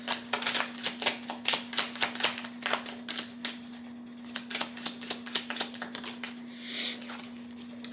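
Tarot cards are shuffled and drawn in a quick series of crisp, close riffling clicks and snaps, with a steady low hum running underneath.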